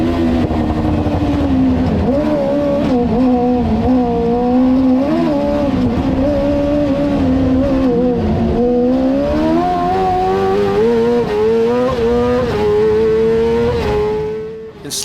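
Loud onboard engine of a 650cc rally buggy in a winter rally stage, revving hard and continuously with rising and falling pitch through slides and handbrake turns, the motor note shifting as it powers on and backs off.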